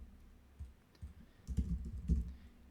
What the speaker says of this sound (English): So if I just start typing here, it'll allow me to type in any header text that I want.